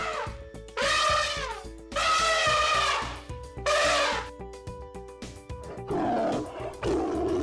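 A tiger roars repeatedly, loud and close, in a series of long rising-and-falling bellows separated by short pauses, with a low tonal background bed underneath.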